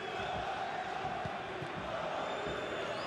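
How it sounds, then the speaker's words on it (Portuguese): A stadium crowd in FIFA 23 roars and chants steadily through a Champions League group match involving PSG, a continuous distant wash of massed voices with faint thuds underneath. "A torcida canta."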